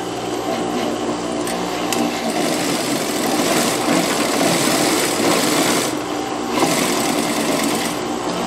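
Sewing machine running two gathering seams along a child's dress neckline, a loud, close, continuous whirring stitch with slight speed changes and brief pauses.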